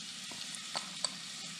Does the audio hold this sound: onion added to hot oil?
yes